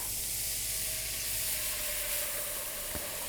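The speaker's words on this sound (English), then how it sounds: "And then you just add your 2 cups of milk to that" Milk goes into a hot, browned butter-and-flour roux for baked mac and cheese, giving a steady, even sizzling hiss that holds at moderate level throughout with no voices.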